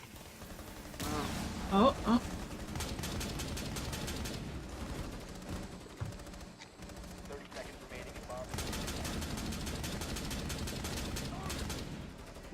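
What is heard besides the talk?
gunfire in the video game Rainbow Six Siege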